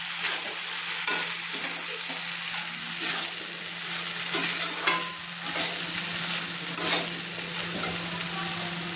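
Boiled pasta fried and stirred in a pan over medium flame gives a steady moderate sizzle, punctuated by repeated scraping and knocking strokes of a spoon against the pan.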